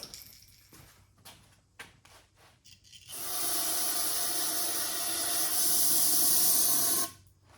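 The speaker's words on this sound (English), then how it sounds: "Brake clean." An aerosol can of brake cleaner sprays in one long, loud, continuous hiss of about four seconds on a 1988 Chevy C30 squarebody truck, after a few short knocks and handling noises.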